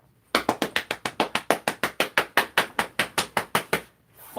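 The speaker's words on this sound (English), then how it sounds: "A fast clap, please." Rapid, sharp hand claps repeat in a quick, even rhythm, about twenty in a row, close and loud, then stop.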